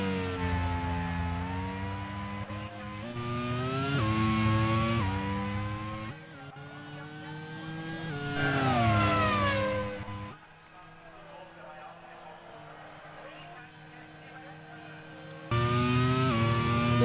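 Race cars lap the Dijon-Bourgogne circuit during a Grand Prix, engines loud and close with rising and falling revs through gear changes, a quieter stretch of distant engine noise, then a sharp return to full volume.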